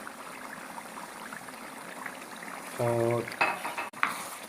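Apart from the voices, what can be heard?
adding lentils to pumpkin cooking in a pot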